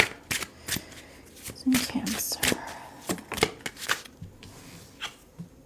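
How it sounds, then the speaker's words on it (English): Tarot cards are riffled and shuffled in quick bursts of papery flicks and taps, close and fairly soft, while someone speaks briefly between them. "Shuffle."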